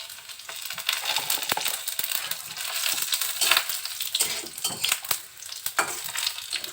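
Garlic and a little whole cumin fry in hot oil, a steady close sizzle broken by scraping stirs and occasional sharp clinks of a utensil against the pan.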